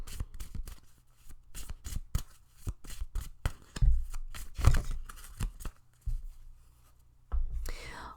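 Tarot cards being shuffled by hand, a run of crisp riffling and slapping bursts in quick irregular rhythm, close and fairly quiet, with soft speech-like breaths and murmurs in between.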